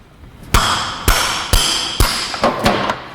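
Hammer taps on the loose centre hub nut of a 1981 MGB GT wire wheel: six sharp metallic knocks, roughly evenly spaced with a faster pair near the end, close and ringing.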